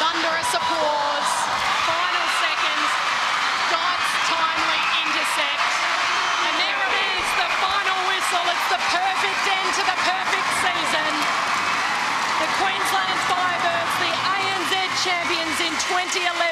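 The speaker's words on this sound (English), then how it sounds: "Thunderous applause." Arena crowd roars and applauds at a netball premiership win, a loud, unbroken wall of cheering, clapping and yelling that lasts throughout, with commentary voices layered over it.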